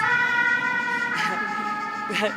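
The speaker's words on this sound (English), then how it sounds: "fire engine going past" Fire engine siren passing by outdoors, a wailing tone rising and falling over traffic rumble, moderately distant.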